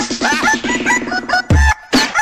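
A chicken sound effect in a meme plays as rapid, loud clucking that breaks into a sharp cackling squawk and a final cluck, close and dry, with no talking over it.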